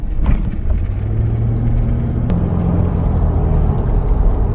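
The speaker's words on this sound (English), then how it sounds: "This is us driving to the village." A car drives along a road toward a village near Kumasi, its steady low engine rumble and tyre roar continuous and close from inside the vehicle, with no talking.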